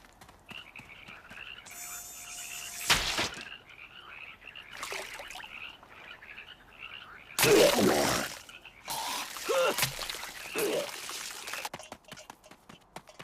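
Cartoon frogs croaking around a pond, with several loud, bursty croaks and splashy noises separated by quieter gaps, plus a brief tonal squeal near the start; no talk.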